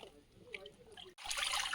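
Dirty water is tipped out of a tub after washing finger millet, starting as soft trickling and dribbling, then breaking into a louder rushing splash as the water pours onto the ground.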